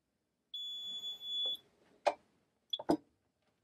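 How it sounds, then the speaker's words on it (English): A single sustained electronic beep from a Drufomat Scan pressure molding machine forming a sports mouthguard, clear and close, followed by a few sharp mechanical clunks and clicks. "You'll hear a beep first when the clock hits zero."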